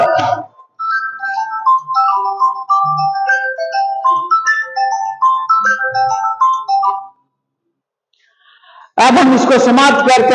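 An incoming call sets off a phone's melodic ringtone, a bright tune of short notes that plays for about seven seconds before stopping. After a pause, a voice begins speaking.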